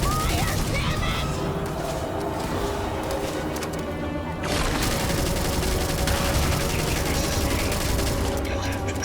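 Dense, continuous gunfire and booming impacts in a Starfield combat encounter, loud and unbroken for several seconds, with a short dip midway before the barrage resumes at full strength.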